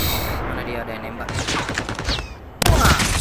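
Gunfire in the mobile shooter Call of Duty Mobile: a rapid burst of shots over game sound, with a louder volley near the end, while someone talks over the action.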